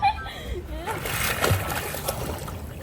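Someone jumps into a warm swimming pool, a loud splash and sloshing water under chatter and a voice, with the impact standing out briefly mid-clip.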